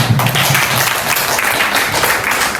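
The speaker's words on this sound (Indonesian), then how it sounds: "tepuk tangan untuk kita semua" A school class claps together in dense, continuous applause, fairly loud and close, lasting a few seconds.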